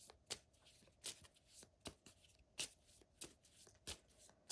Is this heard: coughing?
no